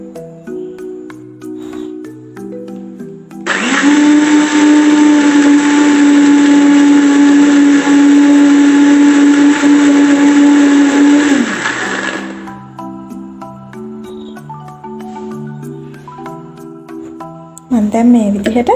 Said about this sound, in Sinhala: ඉස්සෙල්ලාම මම මේ කැරට් ටිකයි ඉඟුරු කෑල්ලයි එකට දාලා බ්ලෙන්ඩ් කරලා ගන්නවා